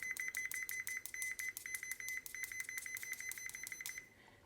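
Rapid series of short electronic beeps from a continuity tester's test leads on a good connection, about two dozen evenly spaced pulses over four seconds, fairly loud and close, with no talking.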